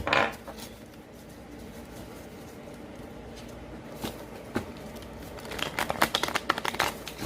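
Tarot cards being shuffled by hand, a series of soft riffling and slapping bursts, sparse at first and then quick and clustered toward the end, close and fairly quiet.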